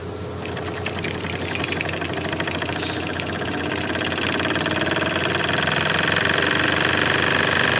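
A restored Mamod SE1 model steam engine runs on steam, giving a steady, continuous mechanical chuffing hum that holds at a constant loud level and builds slightly over the stretch, with no talking.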